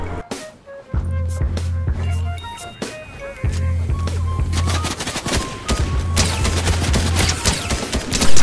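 Rapid Fortnite gunfire rattles out in dense bursts of sharp, loud shots, pausing briefly between volleys, with game music tones running underneath.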